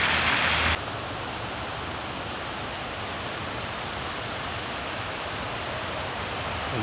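Water flowing east from a culvert, a steady broadband rushing wash heard continuously, with a brief louder burst at the start before settling into an even, moderate flow.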